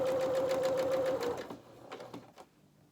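A sewing machine stitches fabric in a fast, rhythmic whirring burst for about a second and a half, then slows and stops with a few separate mechanical clicks.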